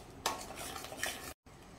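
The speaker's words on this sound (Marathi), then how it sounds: "आता हे सर्व मी छान मिक्स करून घेते।" A spoon clatters and scrapes against a pan while amaranth halwa is stirred, two bursts of close metallic scraping over a soft background, with a short gap of silence near the end.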